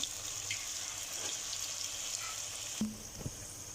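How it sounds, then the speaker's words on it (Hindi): Pakoras fry in hot oil, giving a steady soft sizzle and bubbling throughout, with a couple of brief clinks or knocks near the end. "इस तरह मैं सारे पकौड़े डाल लूँगी और फिर हम इसको फ्राई कर लेंगे"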